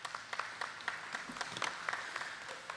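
Board meeting attendees give a faint, distant round of applause for board members' re-elections, a soft patter of scattered claps throughout.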